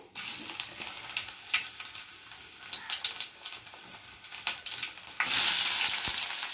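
Spices crackle and sizzle steadily in hot oil for a Telugu ridge gourd and raw chana dal curry tempering, with a louder burst of hiss near the end.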